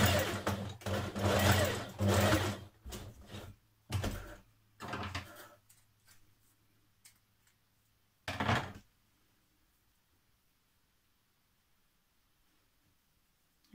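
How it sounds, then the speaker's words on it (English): Domestic sewing machine stitching down the broken line on a trouser pleat, running in several short bursts of a few seconds each, loud and close, separated by pauses and ending in a long quiet stretch. "you're going to stitch down the broken line"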